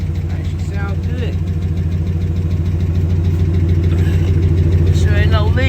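A 2009 Dodge Ram Sport pickup with a 5.7 Hemi V8 and a bad fuel pump runs at a steady idle nearby, its low, even engine drone continuing unbroken, with a faint voice briefly over it.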